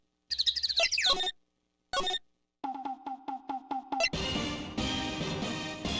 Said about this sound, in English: The bird sound in this game really, really annoys me.